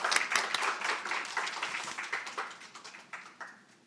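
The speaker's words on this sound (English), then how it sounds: "please welcome him with a big round of applause." An audience at an international training session applauds to welcome a speaker to the stage, many hands clapping steadily before the sound tapers off toward the end.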